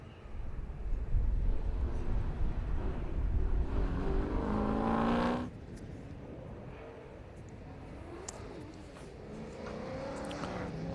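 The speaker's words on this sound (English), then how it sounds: "Paul Tilley is next in the XWGT Falcon" XWGT Ford Falcon with a 393 stroker Windsor V8 at a historic sprint event, loud engine roaring and revving as it accelerates past, then fading into quieter distant engine noise and background hum.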